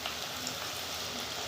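Ridge gourd bajji frying in hot oil, a soft, dense crackling sizzle that holds steady and faint throughout, with no voices.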